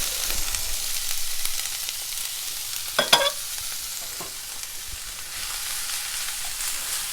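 Ground beef and onion sizzle in a pan, a steady frying hiss running throughout with a brief clatter of stirring near the middle.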